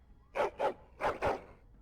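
Four quick dog barks in two pairs from the Dragon Age Origins video game, sharp and fairly close, set against a quiet, nearly silent background.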